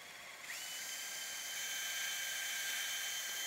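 A surgical power drill whines steadily during arthroscopic shoulder instability repair, drilling for a knotless suture anchor. The high-pitched drilling starts abruptly after half a second and holds evenly at a moderate level with no talking.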